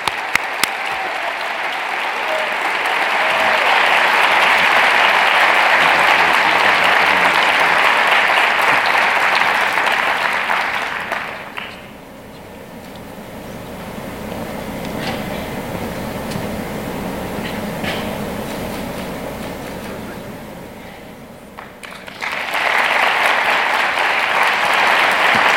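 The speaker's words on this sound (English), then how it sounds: "give her another round of applause" An audience applauds an award recipient stepping onto a conference stage, with sustained loud clapping that fades out midway and then swells again near the end.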